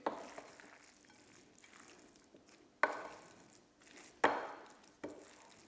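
Quinoa pumpkin salad with sun-dried tomatoes and feta being mixed in a bowl, giving soft, close scraping and stirring, with several sharper clinks of a utensil against the bowl at irregular intervals.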